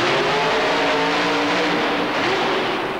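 A super modified mud racing car from 1991 runs on a deeply rutted mud track, its engine giving a loud, close, sustained roar that holds steady with slight pitch shifts throughout.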